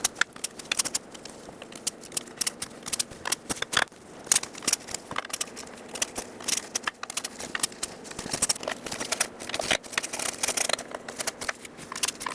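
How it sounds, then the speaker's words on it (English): A small 1/4-inch ratchet tightens the transmission oil pan bolts on a 1999-2007 Ford F-350, giving quiet, rapid clicking in irregular bursts close by with short pauses between turns. "apply even pressure to all of them in a cross pattern so everything can seat properly, just using a small 1/4-inch ratchet"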